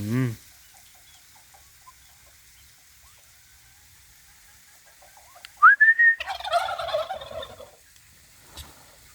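A turkey gobbles once loudly and close, a rapid rattling burst, after a quiet stretch with a brief earlier call and faint background noise, near a chili bed being mulched with straw.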